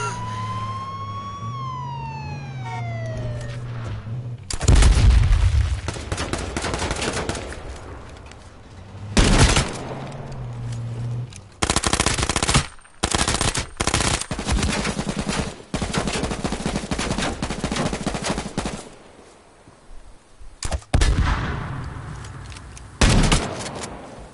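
Loud bursts of automatic gunfire in the H1Z1 survival shooter arrive in repeated, sharp volleys separated by brief gaps, after an opening of warbling synthetic tones, close and dominant with no talking.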